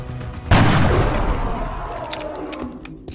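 A single loud sniper shot cracks in the XCOM: Enemy Within video game, followed by a long booming tail that slowly fades.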